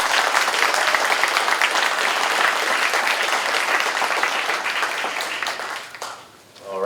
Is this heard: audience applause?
yes